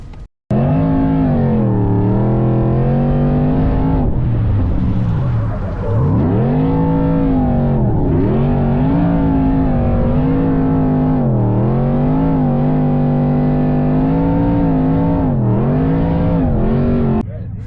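A Ford El Bandito truck with a 5.2-liter Predator V8 making 1,000 horsepower is driven hard. The engine roars loud and close, rising and falling through repeated revs and shifts, with faint voices underneath.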